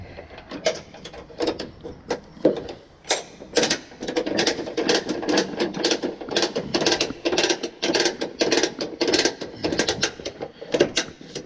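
Ratcheting winder cranking tight a load strap on a truck, a run of repeated sharp metallic clicks and clunks in an irregular rhythm, close and fairly loud throughout.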